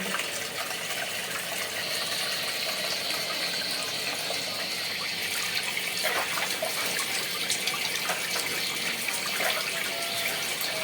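Flowing water rushes steadily and loudly outdoors, a continuous broadband wash with faint trickling texture that holds unchanged for the whole stretch, with no voices over it.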